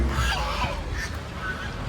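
Geese honk in a loose chorus at moderate distance at a temple park with deer, peacocks and elephants, the calls overlapping against a low background rumble.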